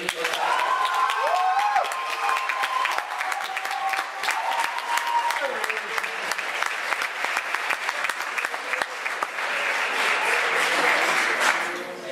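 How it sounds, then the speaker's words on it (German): Sustained applause from an audience at a gastronomy contest finale, many hands clapping steadily, with a brief voice heard over it near the start. "Wir begrüßen mit einem Applaus das Team aus Bad Felding."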